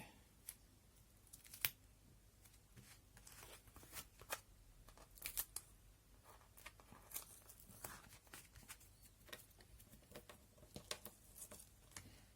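Scissors snip through scrapbooking paper in a long run of quick, crisp cuts with small rustles between them, close and fairly quiet.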